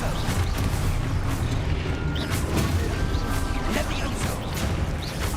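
Expulso explosion spell blasts in the video game Hogwarts Legacy amid a dense wash of combat crashes, booms and whooshes, loud and continuous, with other spell effects and a voice mixed in.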